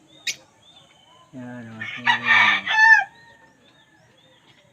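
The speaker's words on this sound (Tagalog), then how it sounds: "Yan ang alaga ko. African bird." A pet African bird calls in short bright bursts, one brief note followed by a harmonic, trilling chirp sequence close by, with a voice briefly speaking.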